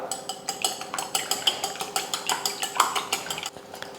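Four eggs with turmeric powder and salt are beaten in a bowl, a quick run of rhythmic clinks and taps as the utensil strikes the bowl's sides, close and fairly quiet, with no talking.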